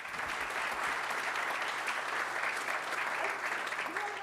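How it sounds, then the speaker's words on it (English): Audience applause after a creativity talk: a steady, dense wash of clapping from a crowd sustains at even loudness for about four seconds. "Can we get an applause?"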